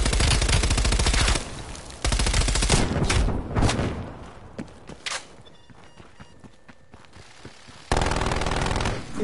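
Rapid bursts of AK rifle fire from a PS4 shooter game, long loud automatic strings at the start and end with scattered single shots and quieter gaps between.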